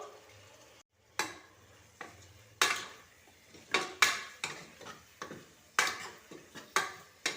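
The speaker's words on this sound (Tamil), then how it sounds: "ஸ்டவ்வை நான் மீடியம் ஃப்ளேமில் வச்சு தான் வதக்கிக்கிட்டு இருக்கேன்." Chopped tomatoes and curry leaves being sautéed over a medium flame for mutton kuzhambu, with about a dozen distinct, irregular spatula scrapes against the pan and a low sizzle between strokes, heard close up with no talk.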